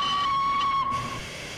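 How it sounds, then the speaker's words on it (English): The Flying Scotsman steam locomotive's whistle in Train Simulator 2021 at Edinburgh on the Fife Circle Line, one loud sustained tone with a steam hiss that fades as the whistle cuts off. "Give a toot of the whistle."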